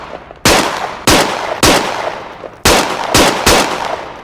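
Six sharp handgun shots ring out in the VR shooter Onward, spaced unevenly about half a second apart, each a loud close crack with a short decaying tail and no voices.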